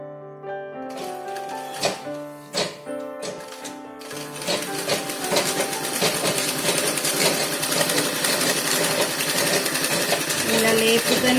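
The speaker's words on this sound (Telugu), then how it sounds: "ఎండ్ వరకు సేమ్ ఇలానే పట్టుకుంటూ క్లాత్ని కుట్టుకోవాలి" A sewing machine stitches a pico edge on cloth, starting with a few short bursts before running continuously in a steady rapid clatter. A voice speaks over it.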